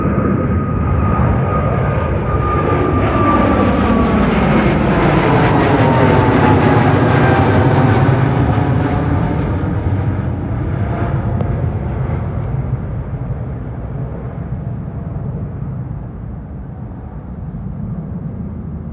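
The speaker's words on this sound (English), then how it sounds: "Another Boeing 777-300ER" Singapore Airlines Boeing 777-300ER passing at London Heathrow, a loud, continuous jet roar that swells and sweeps in pitch as the aircraft goes by, then slowly fades, with no voices.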